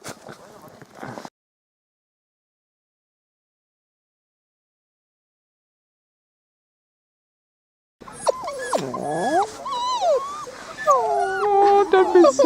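Sled dog in snowy Northern Lapland whimpering and howling up close, long wavering cries and whines rising and falling after a brief spoken moment and a pause of silence.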